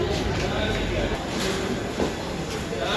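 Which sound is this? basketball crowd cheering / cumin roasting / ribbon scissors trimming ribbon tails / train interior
train interior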